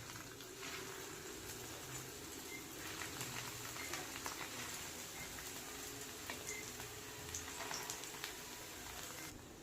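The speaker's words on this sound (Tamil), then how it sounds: "ப்ரெட்டை கொஞ்சம் கொஞ்சமாக இந்த மாதிரி நான் எல்லாத்தையுமே நான் பொரிச்சு எடுத்துக்கிறேன்." Bread pieces frying in oil in a pan for bun halwa, a steady soft crackling bubble with fine pops running continuously at low level, no voices.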